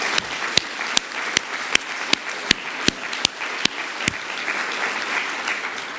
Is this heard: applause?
yes